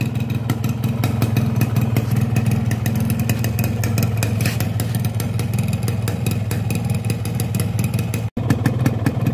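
A cold two-stroke motorcycle engine idles steadily up close, a rapid buzzing, rattling putter that holds an even rhythm throughout.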